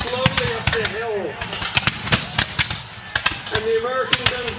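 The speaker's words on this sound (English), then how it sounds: "And the American gunfire is intense." Reenactors at a 250th-anniversary Bunker Hill battle reenactment in Gloucester, Massachusetts fire muskets in a ragged volley, sharp cracks popping irregularly, some close and loud, others farther off, while voices talk and shout over the shots.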